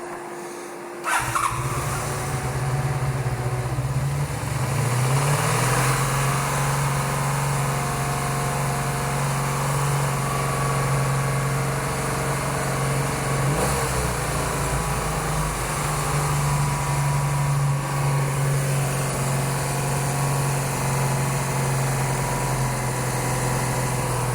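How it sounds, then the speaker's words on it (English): A cafe racer motorcycle engine idles steadily and close during carburetor synchronization, a constant low hum with a slight dip and recovery in revs early on, no speech. "it drops too low, so idle is too slow"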